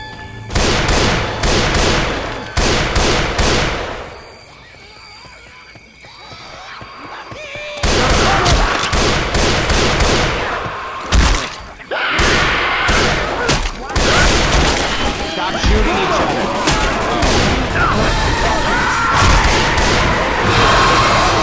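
Rapid bursts of gunfire and booming impacts from a swamp-themed video game, loud and dense in clusters with a brief quieter lull, under occasional speech.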